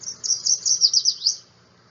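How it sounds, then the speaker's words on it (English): Yellow warbler singing a quick, bright run of high sweet notes in one phrase lasting just over a second, close and clear, followed by quiet. "Song of the yellow warbler."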